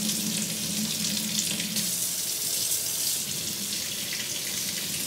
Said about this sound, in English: And I want to get the water temperature right before I put my dog under it